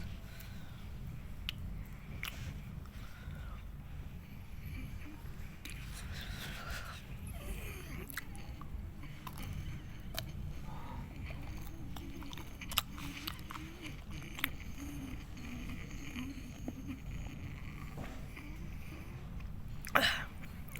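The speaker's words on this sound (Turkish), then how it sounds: "Ağzımda çıtırtı ağzımda çıtırtı oluyor çiğnediğim zaman." Crunchy Dubai chocolate with a filling like peanut butter is chewed close to the mic, giving quiet, steady mouth sounds with a few sharper crunches scattered through.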